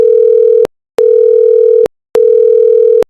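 A phone ringback tone plays during a call, three long steady loud tones separated by short silences, close and clear with nothing else.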